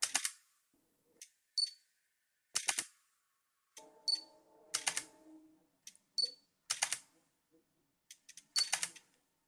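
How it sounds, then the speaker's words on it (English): Panasonic GX80 (GX85) mirrorless camera shutter firing repeatedly, a series of crisp, close mechanical clicks in irregular bursts, with a faint electronic whir under one stretch, heard alone in a quiet room. "Now, the shutter. Here's how it sounds."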